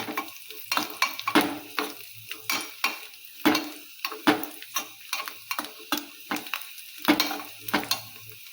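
Cashews and almonds fry in a pan for huggi payasa, with a steady sizzle under repeated, rhythmic scraping strokes of a stirring spoon, close and fairly loud.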